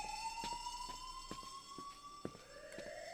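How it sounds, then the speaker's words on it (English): A fire alarm siren in a relaxing video game wails continuously with a rising pitch, loud and steady, punctuated by repeated sharp clicks, with no talking. "This is a fire alarm."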